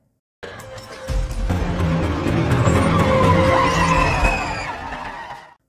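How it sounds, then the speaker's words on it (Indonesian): A postman's car passes along a leafy roadside, rising from near silence into a loud, sustained rush of engine and tire noise for about five seconds, then cutting off. "Chloe dikejutkan dengan melihat sebuah mobil yang melintas"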